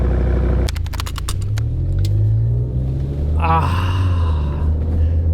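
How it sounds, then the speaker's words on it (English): An Audi RS6 V10 engine rumbles low and steady, then revs up with a rising roar about halfway through, staying close and loud throughout. "The sound of the V10, guys."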